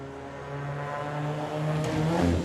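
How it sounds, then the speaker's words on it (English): A rally car on the Newport Speedway stage rises in engine pitch as it approaches a jump, a steady drone swelling louder toward a rough thump near the end. "Hear the car."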